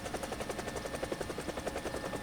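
A Russian attack helicopter in War Thunder spools up on a test range, its rotor throbbing in a rapid, even rhythmic pulse that holds at a steady, moderately quiet level throughout, with no voices.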